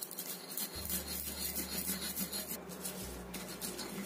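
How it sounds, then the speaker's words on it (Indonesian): Repeated rough grinding and rubbing strokes as spices are ground fine, close and steady, like a pestle working against a stone mortar. "Ini udah kita ulek halus seperti ini."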